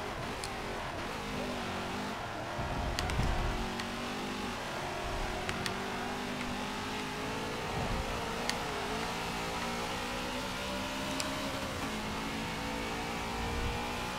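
Maserati race car engines roar continuously at Monza in a GT endurance racing video game, a steady droning whine that rises and shifts with gear changes, loud and unbroken with faint clicks above, no voices.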